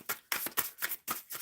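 Tarot cards being shuffled by hand, a quick series of crisp riffling bursts separated by short pauses, close and clear with no talking.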